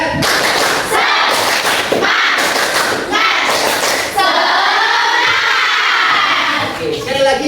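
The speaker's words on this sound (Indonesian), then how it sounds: "Kita bikin bareng, yaitu tepuk semangat." A classroom of children performs the 'tepuk semangat' rhythmic clapping chant, sharp bursts of claps alternating with shouted chanting in a loud, close, energetic pattern.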